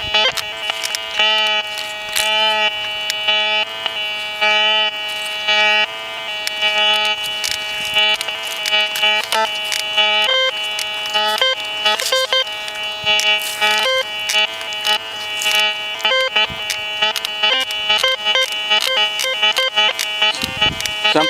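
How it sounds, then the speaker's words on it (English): A White's MX Sport metal detector beeps steadily and tonally for over twenty seconds, with a continuous pitched hum broken by rapid pulses and flickering chirps as it sweeps. "You want to check out those beeps,"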